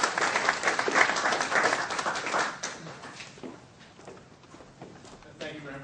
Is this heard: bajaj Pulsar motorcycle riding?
no